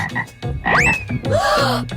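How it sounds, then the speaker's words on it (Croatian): A frog croaks in a comedic food challenge setting, two loud, close, rising-and-falling croaks over a short stretch, clear and alone without talk. "O ne, samo ne žaba."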